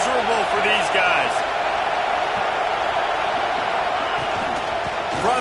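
Steady stadium crowd roar in a simulated college football game, a dense continuous wash of noise under a play-by-play commentator talking throughout.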